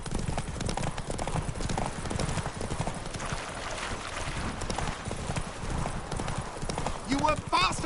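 Rhythmic clip-clop of Roach the horse's galloping hooves in The Witcher 3: Wild Hunt, a steady drumming through the whole stretch, with a neigh near the end and game voices speaking over it.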